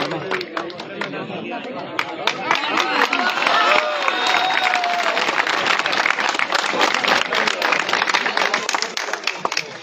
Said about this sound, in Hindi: तालियां बजती रहनी चाहिए, क्योंकि आपकी तालियों से ही इनका हौसला बढ़ेगा